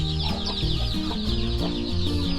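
Hens clucking in a farmyard after a storm, with a mother hen among young chicks: close, continuous low repeated clucks with higher chirping calls over them, no talk.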